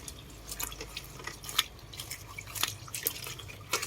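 Water drips from freshly washed edible insects draining in a strainer, soft scattered drops landing irregularly at close range over a quiet background.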